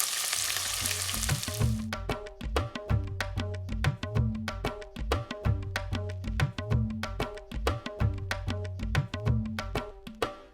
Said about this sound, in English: Add the onions and fry till it goes nice and golden.